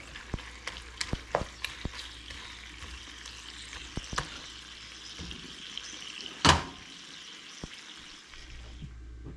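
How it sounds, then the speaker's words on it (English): Bacon fries in a pan for breakfast, a soft steady sizzle with scattered pops and crackles and one louder burst of spattering partway through. "get a little bacon going for breakfast"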